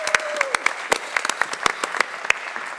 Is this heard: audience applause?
yes